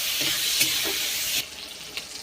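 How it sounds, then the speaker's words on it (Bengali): Chopped tomato sizzles steadily in a hot pan with soft stirring scrapes. The frying noise dips suddenly partway through and carries on more quietly, with no talking. "টমেটো কুচিটা একটু ভেজে নেব।"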